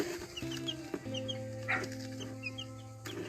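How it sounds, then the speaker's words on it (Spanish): One-day-old chicks from a homemade egg incubator give scattered, faint high peeps over a steady low electrical hum, their chirps brief and spread irregularly across the moment. "Antonio, acá están los pollitos."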